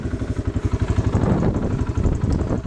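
A 2014 Kawasaki Brute Force 300 ATV fitted with a winch, its engine pulsing in a steady, close throbbing chug that rises slightly as it pulls away, loud and without speech.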